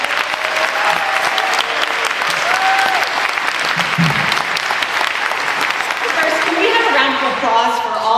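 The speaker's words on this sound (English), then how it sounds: "Applause for all the Indivisible volunteers who are creating space for this conversation" Sustained audience applause at a political town-hall gathering, dense and steady clapping throughout with some voices and cheers rising from the crowd near the end.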